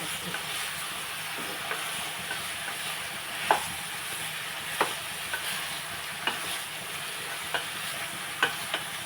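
Brinjal and mango curry sizzling in oil, stirred now and then, a soft steady frying hiss with scattered light clicks and scrapes of a spoon against the pan, fairly quiet and without voices.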